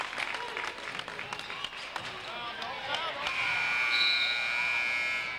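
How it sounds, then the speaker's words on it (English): A sustained electronic buzzer sounds at the end of the first half of a 1998 high school boys basketball game, rising over gym crowd noise and scattered applause. "At the buzzer, Mao with a steal, but couldn't get the shot off before halftime"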